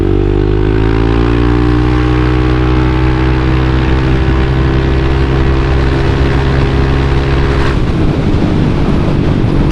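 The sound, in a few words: Yamaha Aerox 155 VVA scooter engine during test ride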